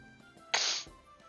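A single short, faint sneeze, a quick breathy burst that sounds distant against a quiet background.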